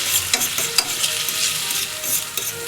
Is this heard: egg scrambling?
yes